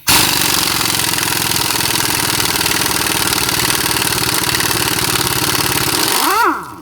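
A power wrench, likely an impact wrench, runs continuously on a caliper bolt of a 2005 Honda Pilot during front brake work, making a loud, steady mechanical buzz that lasts several seconds and then stops abruptly.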